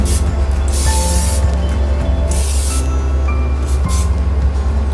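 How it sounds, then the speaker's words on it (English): Olive oil cooking spray hisses into a baking pan in three short bursts over a constant low background hum. "And then we're gonna spray a little bit cooking spray."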